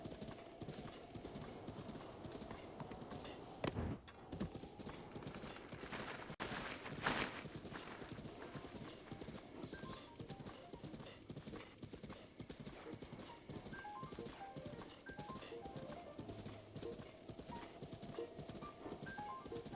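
A horse ridden through rocky heights in a video game clip-clops steadily at a walk throughout, with an occasional whinny, game ambience and music around it.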